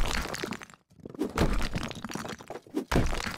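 A wall is knocked down in the House Flipper video game, giving a series of crunchy, cracking smashes: about four close, loud bursts separated by brief silent gaps.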